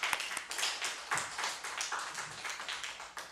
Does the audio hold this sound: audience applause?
yes